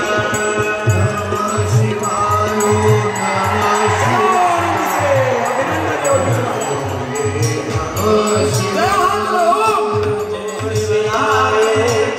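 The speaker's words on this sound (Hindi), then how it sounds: "एक बार बैठे बैठे जोरदार तालियों से अभिनंदन योगी जी महाराज" A large crowd at the Godri Mahakumbh gathering greets Uttar Pradesh Chief Minister Yogi Adityanath with loud, sustained applause and cheering. The noise runs over a steady rhythmic low pulse and stays dense and close throughout.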